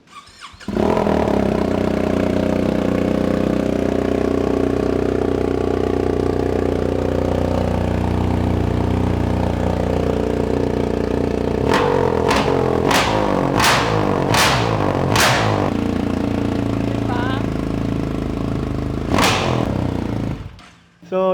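A motorcycle fitted with a custom exhaust idles with a steady throaty rumble, then gets a series of about six sharp throttle blips, each rising and dropping quickly, followed by one more rev near the end.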